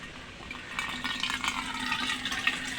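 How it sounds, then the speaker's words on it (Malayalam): Water is poured onto garden plants, including a kanthari chili plant, making a steady splashing and trickling sound close by that grows a little louder after the first second. "വെള്ളം ഒഴിക്കട്ടെ"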